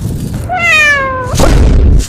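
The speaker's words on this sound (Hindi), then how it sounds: "कभी बिल्ली का आवाज आ रहा है" A cat meow sound effect played back loudly, one clear drawn-out meow that falls in pitch, followed by a rough noisy burst.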